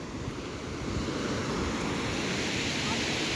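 Ocean waves wash onto a white-sand beach at Elathur, a steady roaring surf with wind rushing across the microphone, continuous and fairly loud.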